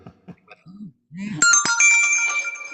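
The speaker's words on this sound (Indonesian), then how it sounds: "ada yang telepon." A mobile phone ringtone starts loudly after a few spoken syllables and plays a bright, repeating electronic melody up close until the end.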